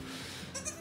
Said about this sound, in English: It's a baby goat.